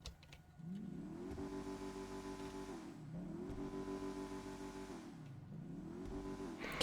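A Gallivanter Baller LE armored SUV engine in the video game GTA Online revs up and settles back down three times in a steady cycle, a continuous mid-pitched roar with each rise holding briefly before falling.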